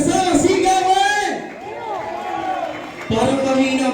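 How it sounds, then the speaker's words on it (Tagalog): Wedding guests cheering and clapping at a reception in a hotel restaurant, a loud burst of crowd noise and voices that fades, then rises again, mixed with people talking. "Parang mahina ang palakpakan ng mga taga-tubuhin at abyawin"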